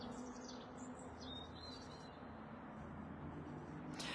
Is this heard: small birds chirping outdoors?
yes